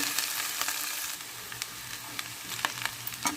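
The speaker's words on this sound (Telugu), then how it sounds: "దీంట్లో వేసేసుకుని ఉల్లిపాయ బెండకాయలు అంతా చక్కగా కలిపేసుకుందాం." Okra and onion fry in a pan with a steady, moderate sizzle, while a spoon stirs them through, adding light scrapes and taps at irregular moments.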